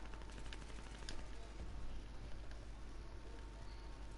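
Gunfire sounds from a distance in Call of Duty Modern Warfare, where faint, rapid bursts of shots crackle over a low rumbling background with a few sharper cracks standing out.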